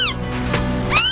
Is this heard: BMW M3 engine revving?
no